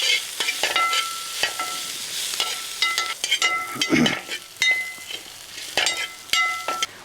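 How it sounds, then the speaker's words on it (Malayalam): Chopped long green chillies and ginger fry in oil in a pan, stirred steadily: a continuous sizzle broken by repeated scraping strokes and light clinks of the spoon, close and fairly loud, with no talking. "ഇനി അതിലേക്ക് നമ്മളൊരു 10 പച്ചമുളക് കേട്ടോ, ചെറുതായിട്ട് അരിഞ്ഞത്"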